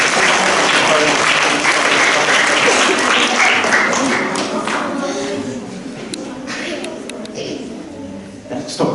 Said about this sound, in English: Could we get a nice big round of applause for Jackie?